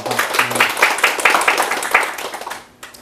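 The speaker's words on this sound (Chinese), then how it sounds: "那首先我们给兰亭一个鼓掌" Audience applause greeting a guest named Lanting at a talk, steady dense clapping for about two and a half seconds before tapering off and dropping away.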